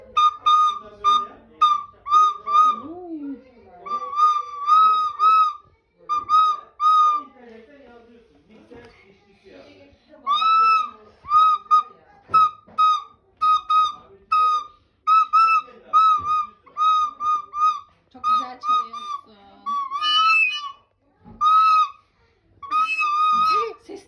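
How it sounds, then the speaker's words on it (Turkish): A shrill toy whistle is blown over and over in short, uneven toots, loud and close, with children's voices in between. "bize düdük çalıyor arkadaşlar"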